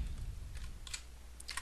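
Keystrokes from a computer keyboard as a search is typed, coming in a few quick clustered bursts of clicks over a low background hum, close and fairly faint.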